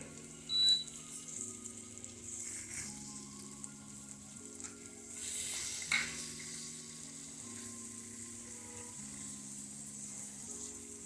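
Tomatoes and onions for a chutney sizzle quietly in a pan as they are turned, a soft continuous frying crackle with a few brief louder stirs and clinks, over faint steady tones in the background.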